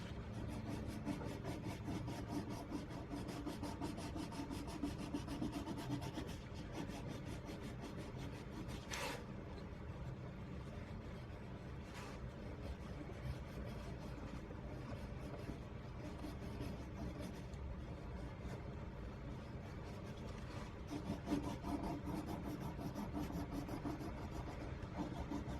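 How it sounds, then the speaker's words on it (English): A Prismacolor colored pencil burnishes across paper in a faint, continuous close-up rubbing rasp made of quick back-and-forth strokes, with a couple of brief ticks along the way. "And as you can see, I'm burnishing"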